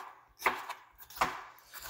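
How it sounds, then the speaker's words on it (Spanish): A few sharp knife chops on a cutting board, spaced unevenly and fairly close, with quiet pauses between strikes. "Mientras estamos picando esto"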